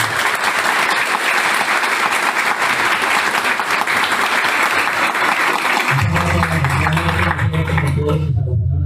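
An indoor audience at an institute event applauds steadily for several seconds, dense and sustained, before it thins out and a low hum takes over near the end.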